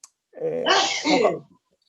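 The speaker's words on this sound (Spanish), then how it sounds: "he oído un estornudo por ahí" A single sneeze during an online talk: a quick inhale, then a sharp, loud burst close to the microphone, with silence before and after.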